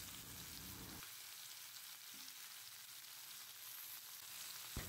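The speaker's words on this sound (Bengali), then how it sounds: "এখন চিকেনটাকে হালকা ফ্রাই করে নেব।" Chicken pieces lightly frying in a pan for a home-style Kolkata curry, giving a steady, quiet sizzle with soft hissing and faint crackles throughout and no talking.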